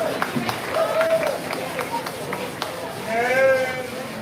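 Sheep bleating at a lamb show, several wavering bleats ringing out across an arena alongside crowd murmur and someone commentating over a loudspeaker.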